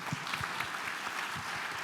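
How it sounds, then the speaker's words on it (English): An audience applauds after a bingo game at a Europe in Action 2026 event, with steady, moderately distant clapping throughout the short stretch and no clear voices on top. "Give yourselves a hand of applause."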